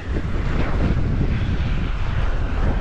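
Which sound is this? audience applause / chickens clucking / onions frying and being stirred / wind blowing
wind blowing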